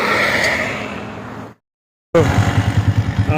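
A motorcycle engine runs steadily, then cuts to silence before returning with a chugging, pulsing idle up close.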